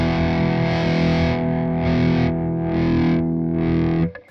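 Distorted electric guitar through a PolyChrome DSP HyperRig setup on a Kiesel, a sustained chord droning as the gain is dialed back via a pedal knob, the bright edge dulling and returning before fading out.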